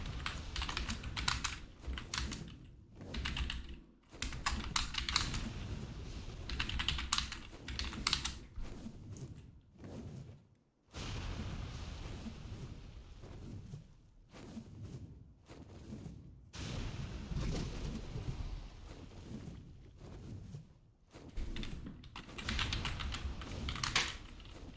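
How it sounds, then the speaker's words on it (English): Typing on a computer keyboard clatters in fast bursts of close, crisp key taps, broken by a few short pauses, with no voices. "I can't stand typing on my keyboard with this microphone in front of me."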